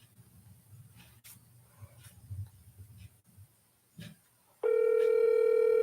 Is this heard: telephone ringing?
yes